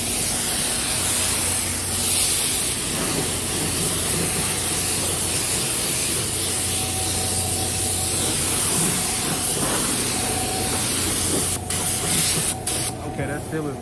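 A spray gun hisses steadily as sealer goes onto a 1984 Chevrolet C10 truck in a paint shop, one long continuous spray close to the microphone with a low hum underneath and a few clicks near the end.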